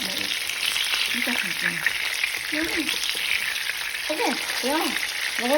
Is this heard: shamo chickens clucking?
no